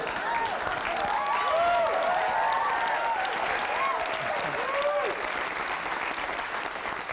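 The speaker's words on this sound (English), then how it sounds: "not sure what that applause means" A studio audience applauds, sustained dense clapping with some cheering, steady and fairly loud for several seconds.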